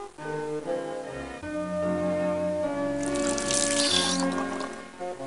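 Water runs steadily from a tap in the American Girls Dress Designer game, a continuous splashing hiss under a soft musical background, with a brighter gush swelling near the middle.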